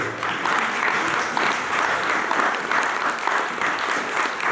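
A church congregation claps in a dense, continuous round of applause that holds evenly for several seconds.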